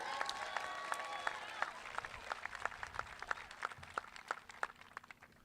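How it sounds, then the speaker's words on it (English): Audience applause at a graduation ceremony for student speakers, fairly faint and thinning, with a few distinct sharp claps standing out near the end and some background voices underneath. "Can I get one more round of applause for all our amazing student speakers?"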